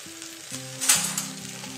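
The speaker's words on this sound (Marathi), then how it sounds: "मी आता ह्याच्यात एक घावणं काढणार आहे पण तो खाण्यासाठी वापरणार नाही आहे." A thin rice-flour ghavan batter sizzles on a new cast iron tawa being seasoned, a soft steady frying hiss with a brief louder crackle near the middle, close and without talk.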